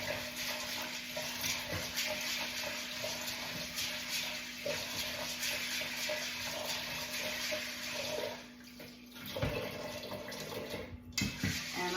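Tap water runs and splashes steadily over black beans being rinsed in a kitchen, a close continuous hiss with stirring swishes, briefly dropping off before resuming with a few clattering knocks near the end.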